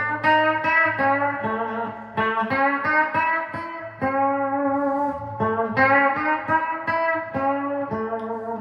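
An electric guitar plays a melodic line with bent notes that glide in pitch, the tone lightly effected and sustained, with no talking.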